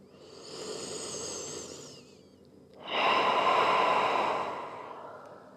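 Slow, deep belly breaths during a gentle beginner yoga flow: a soft, close, airy inhale swelling for about two seconds, a brief pause, then a stronger, hissing breath that fades out, with no talking.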